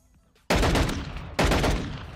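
Two loud pistol shots from a Call of Duty game fire about a second apart, each a sharp broadband crack with a long booming tail, cutting in after a quiet start.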